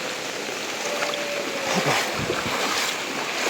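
Floodwater rushing across inundated paddy fields in a village, a steady broad wash of flowing water that swells slightly midway, with no talk.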